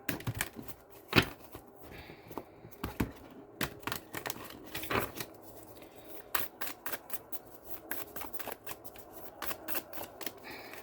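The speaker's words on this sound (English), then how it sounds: "these cards are just so hard to shuffle" A deck of tarot cards is shuffled by hand nearby, in repeated crisp riffling bursts and flutters broken by short pauses and soft taps as the cards are gathered, with no talking.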